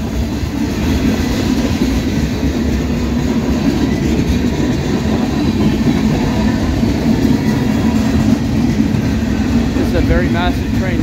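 A massive Wisconsin Central freight train passes at night, a loud, continuous rumble of rolling railcars with clattering wheels and a touch of squeal near the end, while someone talks over it.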